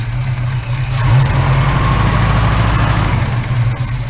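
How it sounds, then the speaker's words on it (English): Holden HK engine idling with a noisy valve lifter: a loud, close, steady low rumble with a faint light ticking running through it, no voices. "That lifter noise is still there"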